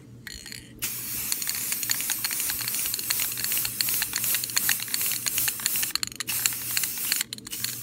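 Rust-Oleum crystal clear enamel is sprayed from an aerosol can onto a steampunk robot sculpture, a steady close hiss lasting several seconds with brief gaps near the start and end, plus faint clicks.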